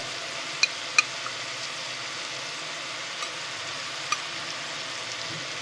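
Masala spices fry in a pan for dhaba-style chicken tadka, giving a continuous close sizzle with a few sharp pops and spoon clicks against the pan, and no voices over it.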